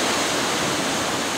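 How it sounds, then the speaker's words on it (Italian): The Cascata Vallategna waterfall in Asso, Italy, roars with a loud, unbroken rush of heavy water close by, with no voices. "c'è questa furia dell'acqua che come vedete nel Lambro si riverbera in modo pesantissimo"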